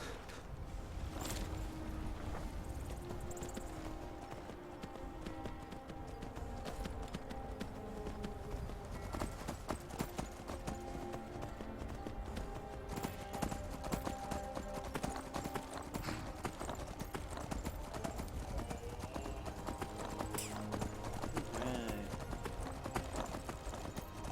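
Steady horse hoofbeats clip-clop at a walking pace throughout in the video game Skyrim, moderately quiet over a dense, constant background of ambient sound.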